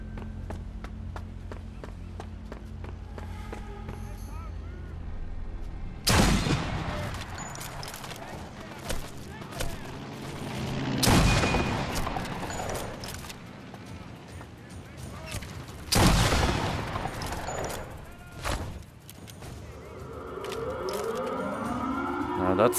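Sniper rifle shots in the Sniper Elite VR game ring out loud and sharp, three heavy blasts spaced about five seconds apart with echoing tails, over steady game ambience and background noise.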